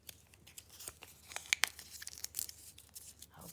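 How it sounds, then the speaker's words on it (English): Yellow paper scraps for a lotus flower craft crumpled by hand into tiny balls, giving intermittent crinkling and tearing rustles with a few sharp crackles, close and fairly quiet, with no voice. "Just crumple them up in tiny little balls."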